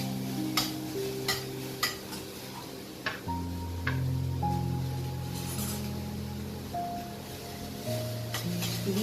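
Capsicum and celery sauté in a pan over low heat, a soft steady sizzle with repeated sharp taps and stirring clicks from a utensil; a faint tonal hum runs underneath.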